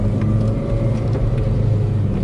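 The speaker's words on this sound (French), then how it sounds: "Ah, le launch control, il pousse quand même." Renault Clio 4 RS launching hard under launch control, a loud, steady engine roar with deep rumble filling the whole stretch, heard from inside the car with no talk.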